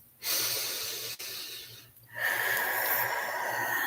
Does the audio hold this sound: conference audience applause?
no